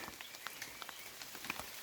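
Rain falls steadily at an apiary, a faint continuous patter of drops with soft, irregular ticks spread evenly through the short stretch and no voices.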